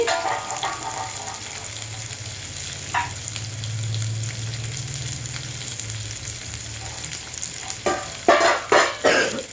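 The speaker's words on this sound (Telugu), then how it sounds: "చక్కగా బాగా వేగాలి. వేగాక ఫ్రెండ్స్ వేగితేనే రుచిగా ఉంటుంది." Chana dal sizzles and fries steadily in a pan of oil, a continuous close crackle, with a few louder stirring scrapes and clatters near the end.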